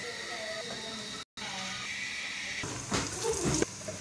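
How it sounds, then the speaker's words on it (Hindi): Onions frying in a pan for a tinda and chicken curry, giving a steady broadband hiss with a short gap, then louder clatter and sizzle near the end. "अभी प्याज ब्राउन हो जाए फिर मैं इसमें मसाले ऐड करती हूँ।"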